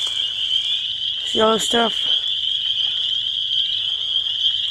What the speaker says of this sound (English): The frogs are doing this